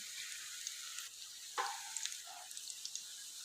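Chicken and pea cutlets frying in a pan of hot oil, a steady soft sizzle with a few sharper crackles and a brief clatter partway through as pieces are turned, close and moderately quiet, no voices.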